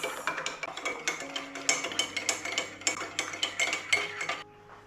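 A spoon clinks and stirs sugar into tea in a cup, a quick run of bright metallic taps and scrapes that stops after several seconds, in a rural African village setting.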